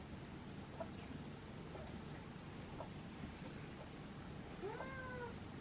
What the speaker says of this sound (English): my cat wants to say